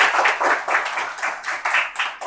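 A room of people clapping together for a student being congratulated, a steady run of dense handclaps close and fairly loud, swelling in repeated pulses for a couple of seconds with no one speaking over it.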